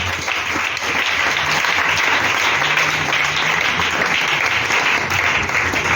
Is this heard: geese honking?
no